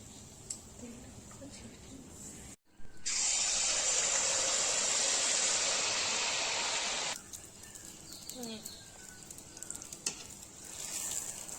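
Pitha sizzling in hot oil in a pan on a gas stove, a steady dense frying hiss that starts abruptly, holds loud and close for about four seconds, then drops away to quieter kitchen background.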